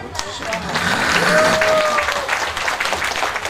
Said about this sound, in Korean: 박수 한번 주시오.